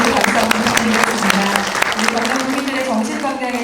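An audience claps steadily at a provincial mental health day ceremony in Gyeongnam, a dense, close burst of applause lasting a few seconds with a low hum beneath and some murmuring.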